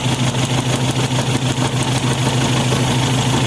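An overhauled Toyota 4K engine runs roughly close by, a loud, continuous mid-pitched rumble with an uneven, shaking pulse throughout.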